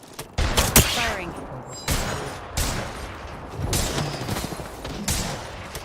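Bursts of gunfire in the video game Apex Legends, loud rapid volleys in several clusters with short gaps, close and sharp, with a voice talking faintly underneath.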